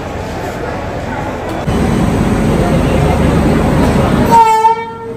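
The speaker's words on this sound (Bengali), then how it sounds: "আর সামনে ট্রেন ঢুকছে।" A train pulls in at platform 14 of Sealdah station, with a loud, steady rumble of rolling wagons close by, ending in a long, tonal horn blast.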